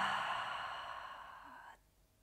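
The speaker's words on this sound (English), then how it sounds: "Just take one deep inhale together and exhale through the mouth." A deep exhale through the mouth during a yoga session, one long soft breathy whoosh that fades gradually and stops abruptly, close and alone.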